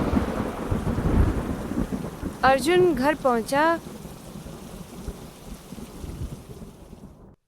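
Rain with rolling thunder in an animated Hindi moral story, a steady wash of downpour throughout with a brief narrated line over it midway.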